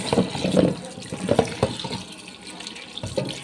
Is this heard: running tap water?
yes